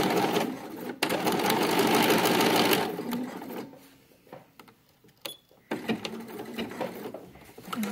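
A sewing machine stitches a lined Christmas stocking close to the edge, its dense motor hum loud and steady for about three seconds, then it stops and soft handling noises and quiet talk follow.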